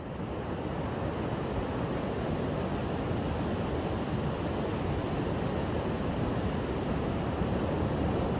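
Pacific Ocean waves make a steady, unbroken roar of surf with some wind noise, constant in loudness throughout and with no voices.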